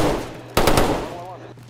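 Burst of video game machine gun fire, a short rapid volley of several loud close shots cutting over steady background game noise, with a voice faintly present.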